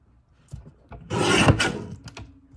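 A paper trimmer blade slides through plum metallic cardstock in one short, dry rasping cut lasting about a second, close and clear, with light handling taps before and after.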